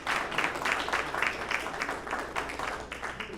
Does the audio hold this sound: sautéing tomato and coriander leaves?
no